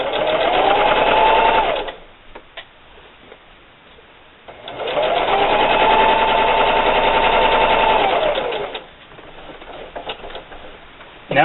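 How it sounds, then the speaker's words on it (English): A sewing machine stitches a holiday gift bag in two steady running bursts of several seconds each, loud and close, separated by a quiet pause with small clicks of handling the fabric. "and just keep sewing"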